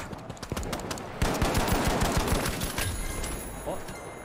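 Rapid automatic gunfire from the first-person shooter The Finals, dense bursts and sharp shots rattling loudly through the whole stretch, with a voice talking over the shooting.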